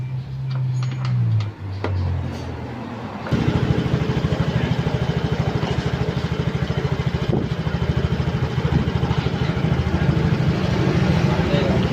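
A Yamaha Mio J motorcycle with a replaced ECU and regulator starts up after a few seconds of handling noise, then idles steadily with a close, even, rapid engine putter.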